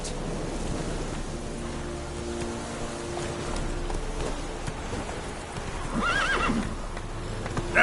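Roach, the horse in Witcher 3, gallops with rapid rhythmic hoofbeats, and near the end a loud whinny rises over the running.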